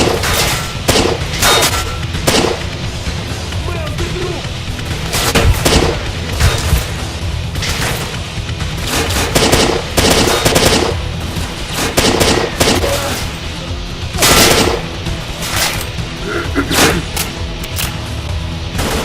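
Rifle-caliber armour-piercing rounds firing in a shooter game set in the Zone, repeated sharp gunshots in single shots and short bursts with booming reports across the whole stretch.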